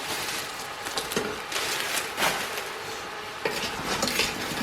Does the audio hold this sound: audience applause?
no